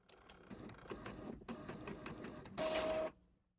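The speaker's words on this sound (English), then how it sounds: "Load your sublimation paper in your printer and click print." A printer feeds and prints on sublimation paper with steady mechanical whirring and rhythmic carriage movement, ending in a louder, brief high whine before stopping, all close and alone.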